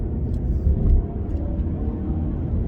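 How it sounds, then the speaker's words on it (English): A 2021 Mazda 3 pulling up to speed, heard from inside the cabin as a steady, close engine and road rumble that swells slightly early on, with no talking. "Let's get this car up to speed."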